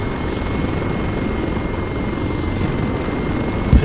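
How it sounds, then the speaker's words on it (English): Helicopters in a video game fly overhead with a loud, constant rotor roar that never lets up, and a brief thump comes right at the end. "And then two more helicopters show up."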